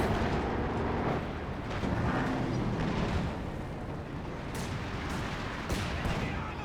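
Pack howitzer HEAT rounds and anti-tank grenades striking a Panzer IV in Company of Heroes 2, a continuous roar of overlapping booms and blasts with sharper cracks near the end, and a voice talking faintly underneath.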